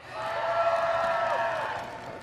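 BlizzCon convention crowd cheering in a large hall, a steady wash of many voices and some clapping that swells and holds for around two seconds, moderately loud with no single voice standing out.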